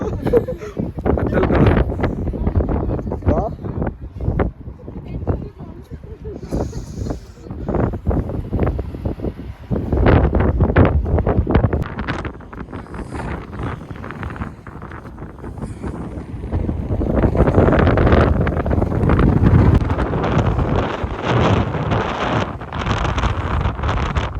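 Strong, cold gusting mountain wind on the way to Rohtang Pass buffets the microphone in loud, roaring bursts, with people talking intermittently underneath.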